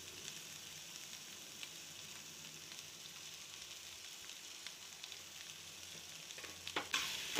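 Green chillies and mashed boiled potatoes stir-fry for masala dosa filling, a quiet, steady sizzle with faint scraping of a spatula, growing a little louder with a few sharper clinks near the end.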